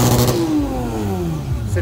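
A Porsche GT3 on the Gumball 3000 rally revs loudly close by, its engine note sweeping down in pitch while someone talks over it.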